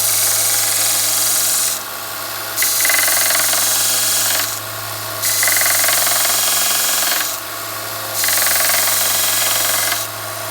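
Steady motorized whine from a power sander sharpening a spokeshave blade, with its pitch and texture rising and falling in repeated passes as the blade is worked against it.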